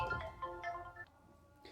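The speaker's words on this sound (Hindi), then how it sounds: "तो चलिए, फोन आ गया था एक जरूरी" A phone rings for an incoming call indoors, a short bright electronic melody repeating a few tones with pauses between them, heard close by and alone without talk.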